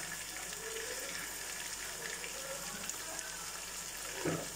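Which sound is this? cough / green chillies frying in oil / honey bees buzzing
green chillies frying in oil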